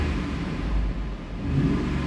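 A Jeep Grand Cherokee with the 4.7 engine revs under throttle, a steady close engine rumble that swells and eases over about two seconds, with no talking.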